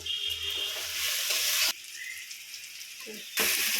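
Garlic paste and onions frying in a pan, a steady close sizzle that cuts off abruptly midway, leaving a quieter hiss before the loud frying returns near the end.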